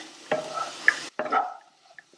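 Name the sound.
potatoes frying with masala powder on medium-high flame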